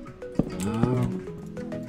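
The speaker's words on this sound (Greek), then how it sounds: "Και μια γελάδα." A cow moos in the Minecraft video game: a short, low, drawn-out lowing call, close and fairly clear, with faint clicks around it.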